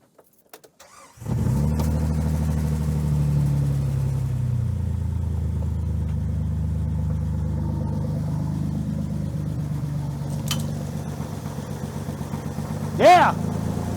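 An old Jeep TJ engine cranks and catches after a brief silence, then settles into a steady low rumbling idle that runs on close and loud, with a short sharper burst near the end.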